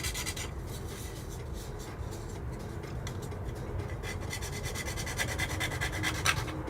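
A small part of a 1/48 scale F-22 Raptor plastic model kit is shaved down by hand, giving a steady, close, quiet rasping and scraping with faint repeated strokes, with no one speaking.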